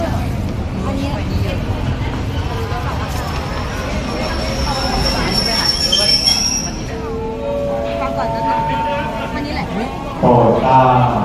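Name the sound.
train passing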